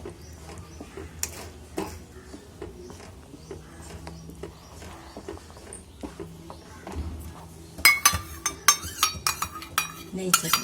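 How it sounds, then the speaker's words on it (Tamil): A spoon stirring thickening apple halwa in a pan, scraping with scattered metallic clinks against the pan that grow quicker and louder toward the end, over a quiet background. "அது வரைக்கும் நல்லா கிண்டிக்கிட்டே இருங்க."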